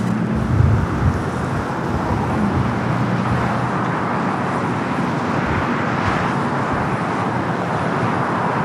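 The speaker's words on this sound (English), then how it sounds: "The flight to Osaka is starting its taxi." An airliner taxiing at Los Angeles LAX airport gives off a steady, broad jet-engine rumble and hiss that holds at an even level throughout, with no voices.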